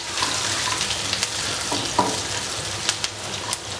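Curry leaves and thinly sliced rounds of green chili stirred in a hot pan for a fish masala, with a steady broadband sizzle and a few sharp scrapes and clicks of a utensil against the pan.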